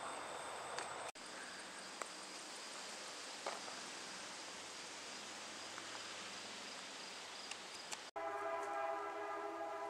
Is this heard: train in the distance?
yes